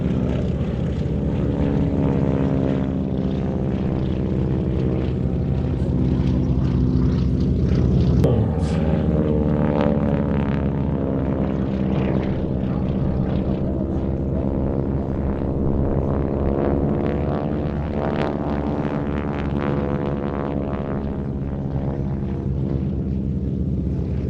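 Aero Superbatics display aeroplanes sweep past at an airshow, their propeller engines droning loud and continuous with pitch sliding as they cross from left and right, a sharp crack near the middle.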